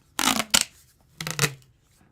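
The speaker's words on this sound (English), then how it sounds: "That is the sound of tape." Adhesive tape is yanked off a roll indoors in two quick pairs of short ripping, crackling pulls, close to the microphone and loud against a quiet room.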